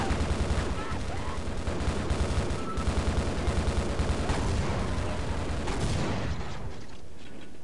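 Loud, dense bursts of weapon fire and blasts in Half-Life, including a grenade explosion, pounding rhythmically for several seconds before cutting off into quieter background.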